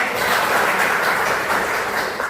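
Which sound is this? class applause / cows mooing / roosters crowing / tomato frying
class applause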